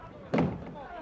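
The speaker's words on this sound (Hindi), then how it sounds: "सिपाही जी जनाब, दरवाजा खोल दो।" A door is pulled open in a Hindi radio drama with a single dull wooden thud and a brief creaking scrape, heard fairly close, while faint background ambience continues.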